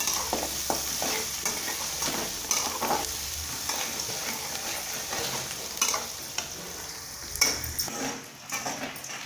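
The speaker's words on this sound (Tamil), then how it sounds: "வெங்காயம் நல்லா வணங்கிடுச்சு." Onions fry in a pan with curry leaves and green chillies for South Indian coconut rice, giving a continuous sizzle broken by close clinks and scrapes of a stirring spoon.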